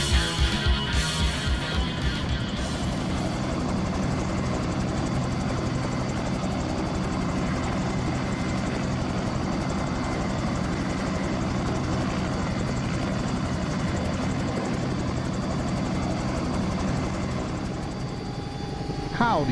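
A Bell 222 Bravo helicopter in the flight simulator X-Plane 11, with a loud, steady turbine whine and rotor roar that runs throughout while a voice talks over it.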